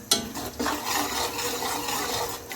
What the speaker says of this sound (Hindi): इसको भून लेंगे थोड़ा सा।